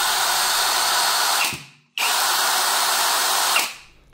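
A Greenworks power drill with a set of drill bits runs in two loud, high whirring bursts, each winding down to a stop before the second spins up again, close and alone.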